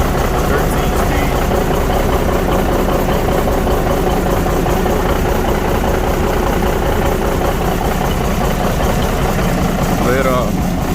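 International cabover truck with a freshly rebuilt 13-speed transmission, its engine idling steadily and loud throughout, a constant low rumble with a brief higher squeak near the end.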